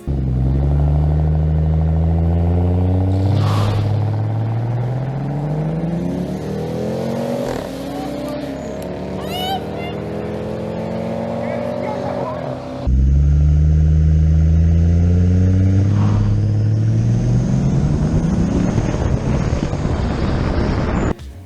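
A Toyota Aristo with a turbocharged 2JZ engine revs up and down repeatedly, loud and close, with rising and falling engine pitch and turbo whine under gusty wind noise.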